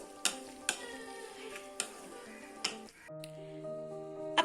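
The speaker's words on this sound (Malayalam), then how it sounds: "എന്നിട്ടൊന്ന് ഇളക്കി കൊടുക്കുകയാണ്" Fish pickle stirred in a pan with a utensil: a sizzle under a handful of sharp scrapes and clinks against the metal, close up, with a humming tone near the end.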